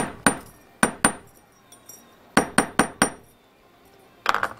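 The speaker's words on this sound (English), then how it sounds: "I'm going to take my hammer again and just flatten this loop a little bit" A metal hammer strikes a wire earring loop against a hard block, seven or eight sharp, ringing taps in small clusters with pauses between, followed by a quick rattling flurry of lighter taps at the end.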